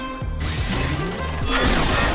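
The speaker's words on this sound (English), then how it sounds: "Some more Donkey Kong Country barrel blasting for good measure." Barrel blasting in the Ms. Splosion Man video game: a dense run of loud crashing, whooshing launch effects with mechanical clatter, heard continuously over busy game music with no talk.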